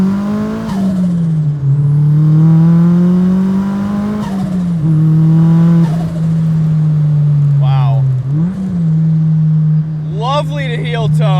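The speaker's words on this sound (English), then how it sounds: "It is about to tear this car in two." A 470 whp big-turbo Mazda Miata running on E85 pulls hard, its engine droning loud and near with pitch sweeps between gear changes, and a voice talks over it near the end.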